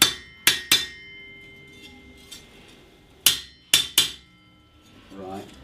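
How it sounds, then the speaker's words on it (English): A blacksmith at a canal-side forge in Devizes striking hot metal and the anvil with a hammer, several sharp ringing clangs in uneven groups with pauses between, and a voice briefly heard near the end. "you'll be hammering the metal, and then you hammer the anvil as well."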